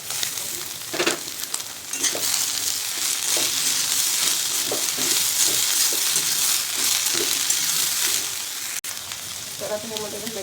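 Capsicum, carrot and cabbage hit a hot pan and sizzle loudly and steadily throughout, with faint stirring and scraping of the vegetables underneath.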